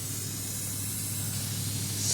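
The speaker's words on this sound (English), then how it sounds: "Spray it." A pressurized spray can blasts a continuous loud hiss onto a bee hive, steady and close throughout, swelling slightly at the end.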